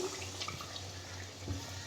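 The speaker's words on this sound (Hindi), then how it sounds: "अब हम 1 गिलास पानी डाल रहे हैं इसके अंदर आलू को" Water poured from a glass into a pot of spiced potatoes for an aloo anday curry, a steady soft splashing pour lasting the whole moment, close and fairly quiet with no talk.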